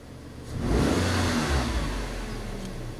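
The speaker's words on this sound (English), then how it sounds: "we'll do a snap throttle" A 2003 Nissan Altima engine during a snap throttle test after a mass air flow sensor fault, rising quickly into a loud, close rev and then easing back to a steady idle.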